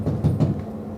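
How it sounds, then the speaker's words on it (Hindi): A door opening in a home: a short, low muffled knock and shuffle of wood, brief and close, with no voices during it. "दरवाजा खोलिए, दरवाजा खोलिए, जाइए।"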